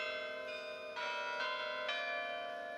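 The tuned carillon bells of Grace Cathedral's North Tower ring out in a slow sequence of four or five struck notes, each chiming tone overlapping the lingering resonance of the last.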